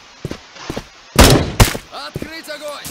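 Gunfire bursts in the mobile shooter Bullet Force: a couple of sharp, loud shots close together, with someone speaking briefly before and after.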